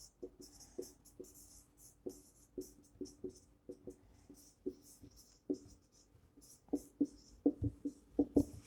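Pen strokes scratch out printf statements of C code by hand on paper, a steady run of short, close scratches and taps that grows louder and quicker toward the end, with no talk.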